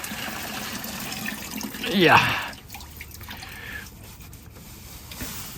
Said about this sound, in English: Lovely, fresh water.